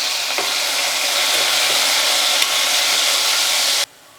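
Chopped green chillies hitting hot oil with already-crackled cumin seeds, a steady loud sizzle with light stirring, close up, cutting off abruptly at the end.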